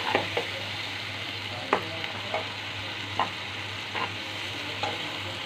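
Teasel gourd fries with turmeric powder in a pan, a soft steady sizzle broken by about seven sharp spatula scrapes spaced through the stirring.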